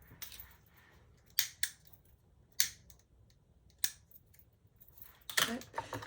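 Scissors trim thread ties while a pouch is sewn, giving about half a dozen crisp, isolated snips close by with quiet pauses between them.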